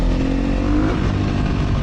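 A Sherco 300 motorcycle converted to supermoto runs with a loud, continuous, rough engine drone, close and steady throughout with no talking.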